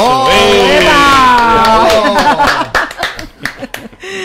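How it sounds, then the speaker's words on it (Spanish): A crowd claps and laughs, scattered hand claps and chuckles rising over a voice that trails off, the applause loose and uneven toward the end. "Nuestro amigo Francisco Alvarado, un aplauso para él."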